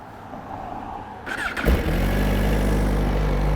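Quiet background noise, then a 2017 Suzuki GSX-R1000R sport motorcycle engine cranks and fires, settling into a loud, steady idle rumble.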